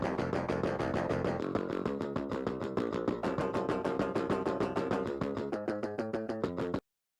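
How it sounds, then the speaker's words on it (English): Clean DI electric metal guitar, played through the Odin 3 MIDI guitar VST, chugs out fast palm-muted riffs with steady rhythmic attacks, loud and dry, ending abruptly after about seven seconds. "So it's a normal DI kind of sound."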